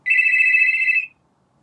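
A parrot imitates a telephone ringing, producing one clear, loud electronic trill lasting about a second, then silence.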